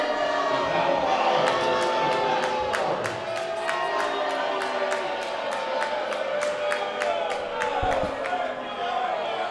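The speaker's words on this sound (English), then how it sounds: "And the crowd once again provides their opinion." Spectators at an ultimate frisbee Open Masters final shouting and jeering at a travel call, a loud mixed outcry with whistles and claps under nearby commentary.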